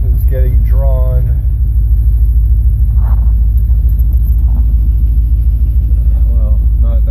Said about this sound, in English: Okay, I just started the truck.